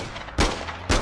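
Two sharp, loud gunshot impacts land about half a second apart, striking a player in the APB Reloaded shooter, each a heavy close crack with a short tail.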